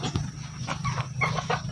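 Free-range heritage chickens, including a Dekalb rooster, cluck in repeated short bursts around a backyard farm in the province, fairly close, over a steady low hum.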